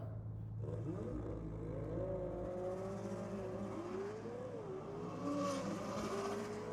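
A Subaru Forester launches in a drag race at an import night event, its engine revving hard and rising in pitch as it accelerates away, loud and steady with no talk over it.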